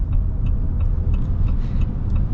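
A 2025 Ram 3500 Limited dually pickup rumbles steadily as it accelerates, its engine note low and continuous with brief dips as the gears shift, heard from inside the cab.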